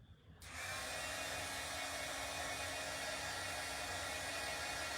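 A heat dryer blowing onto craft paint on a pillar stand, a steady loud whooshing hum that starts abruptly and runs without a break, with no talking.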